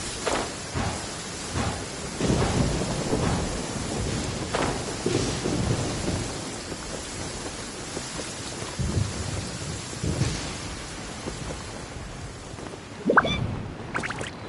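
Video game rain falls steadily while thunder rolls in repeated low rumbles, with a sharper crack near the end.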